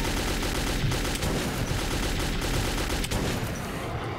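Gunfire in the video game Metro 2033 forms a dense, continuous automatic burst that stays loud and close. It keeps up a rapid rattling texture for the whole stretch, with no pauses and no talking.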